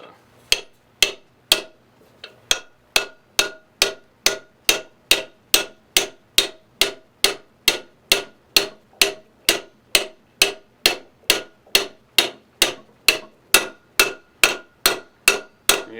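A socket tapped repeatedly onto a new bearing sitting on an Aqua-Flo Flo-Master XP2 spa pump shaft gives a steady train of about thirty sharp, close metallic knocks at an even rhythm, with no voices.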